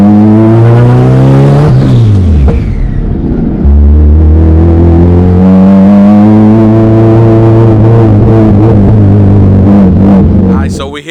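A turbocharged Honda Civic EK engine runs and revs loudly up close, its pitch rising and falling in steady, sustained pulls.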